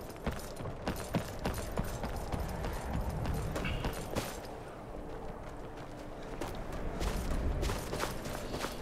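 Horse hooves clip-clop in Skyrim, a fantasy video game, a run of close, irregular thuds and knocks over a low ambient bed, fairly quiet with no talk.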